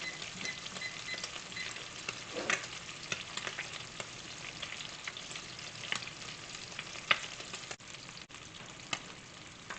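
Crab cakes fry in a pan, giving a soft, continuous sizzle and crackle with occasional small pops and utensil taps, fairly quiet and without speech.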